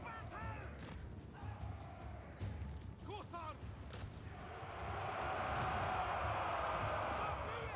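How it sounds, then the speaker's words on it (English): Soldiers' battle cheer swells in a Total War video game fight, a loud massed roar rising midway and holding to the end, preceded by clashing, shouted calls and scattered battle noise. "Love the cheer."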